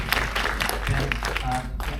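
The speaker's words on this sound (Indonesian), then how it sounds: "Tepuk tangan dong." An audience claps at an event for the Netflix zombie film Abadi Nan Jaya, a spread of brief, scattered handclaps under a noisy room with a low hum.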